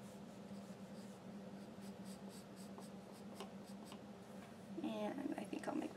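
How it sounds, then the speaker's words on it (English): A pencil sketches an ear shape on paper for a plastic bottle piggy bank craft, giving soft, steady scratching strokes close by, with faint handling noise and a slightly louder rustle near the end. "it's helpful to draw out one using a pencil"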